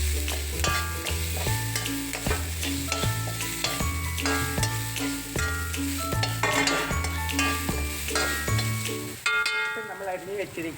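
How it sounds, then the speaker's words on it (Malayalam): Mustard seeds and curry leaves sauté in hot coconut oil in a pan, a steady sizzle and occasional stirring clinks heard under a background of tonal music. "വെളിച്ചെണ്ണ ഒഴിച്ച് കടുകിട്ട് കറിവേപ്പിലിട്ട് വഴറ്റും."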